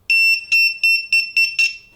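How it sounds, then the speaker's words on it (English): An active buzzer driven by an ESP32 microcontroller sounds in loud, shrill, steady-pitched beeps, one long tone followed by five shorter pulses in quick succession, alone with no other sound. "an active buzzer has a built-in oscillator"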